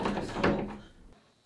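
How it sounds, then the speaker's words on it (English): A door opens with a solid thunk and a brief rattle, loud and close, then fades quickly into quiet. "Open the door,"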